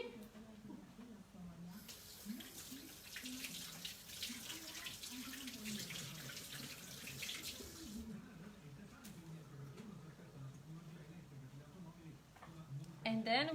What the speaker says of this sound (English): I wash my hands quickly.